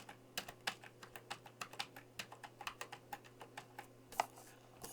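Keys on a computer keyboard are pressed while entering rests in music notation software, a steady run of about twenty soft, distinct clicks at an even pace, quiet and close over a faint hum.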